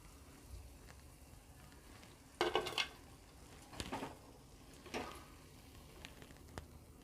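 Gram-flour bhaji batter, seasoned with salt, red chilli powder, turmeric and a little baking powder, sizzles softly in hot oil while a few sharp clinks and clatters of a utensil against the pan cut in.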